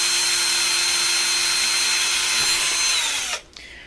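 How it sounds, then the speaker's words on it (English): Power drill with a dull bit boring a hole through a metal bottle cap, a steady close high whine running for about three seconds before abruptly stopping. "Come onto this side, drill a hole over here."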